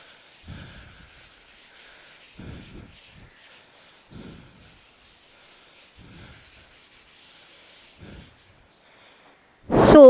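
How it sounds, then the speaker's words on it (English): Someone wipes a classroom board clean, soft rubbing strokes coming in regular short bursts roughly every two seconds, faint and close, with no talk, followed by a sudden louder noise at the very end. "so shall I rub the board?"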